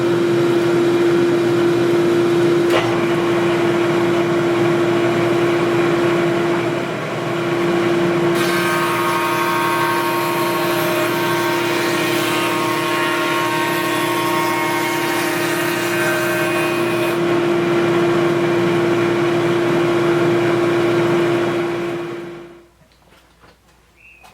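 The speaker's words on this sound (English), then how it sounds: "You can hear the vacuum and the router." Router and shop vacuum running loud and steady together while a wooden stick is fed through to mill molding, a constant motor whine with a rougher cutting stretch in the middle, then cutting off near the end.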